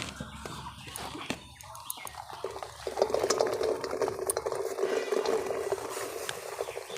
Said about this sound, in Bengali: কড়াই গরম হয়ে গেছে, এবার কচুর শাকগুলো দিয়ে দেব